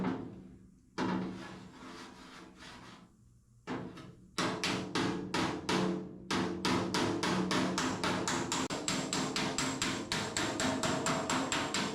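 A hammer knocks out sheet metal for a planishing job, sharp metallic blows coming in a steady, quickening rhythm, close and loud, with a few short pauses early on before rapid continuous strikes.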